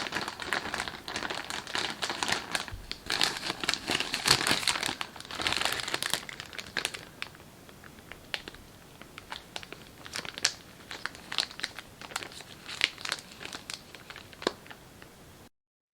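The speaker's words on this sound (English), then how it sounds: "I'm just going to cheat and put it in this plastic bag." Close crinkling of a plastic bag being kneaded to mix paper mache clay with plaster of Paris, dense and busy at first, then thinning to sparser crackles and crunches toward the end.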